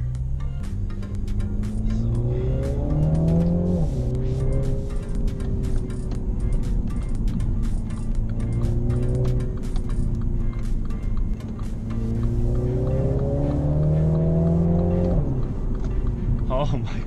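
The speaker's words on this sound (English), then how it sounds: "driving the Mini Clubman JCW" A 2020 Mini Cooper Clubman JCW drives and accelerates, its engine note rising and falling through gear changes over steady road noise, with a person talking over it.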